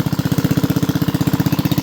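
A deep tubewell irrigation pump engine beside rice paddy fields chugs steadily at close range, a rapid, even, thudding pulse with a rough mechanical rattle, running alone without voices.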